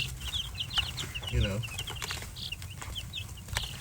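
Buff Minorca chickens cluck and chatter softly in quick bursts nearby, with faint low murmuring and background noise throughout.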